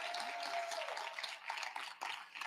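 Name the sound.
audience applause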